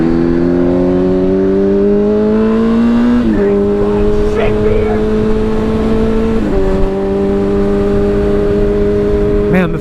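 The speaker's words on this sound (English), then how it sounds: "you forget how cool that like actual fucking inline four sounds on these damn bikes" An inline-four motorcycle engine revs hard on an open road, a loud continuous high-pitched drone that climbs steadily through the gears with two clear upshifts, up close, with a voice occasionally talking over it.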